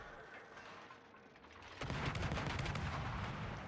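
Naval gunfire and shell hits in World of Warships, a sudden heavy crash of impacts followed by a dense rumbling stream of rapid explosions and rattling, loud and sustained with no talking.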